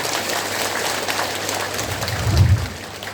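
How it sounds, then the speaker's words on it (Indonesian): Lecture audience clapping hands, a dense even patter of many hands at moderate loudness, steady throughout with a slight swell near the end and no talk over it. "Tepuk tangan ya."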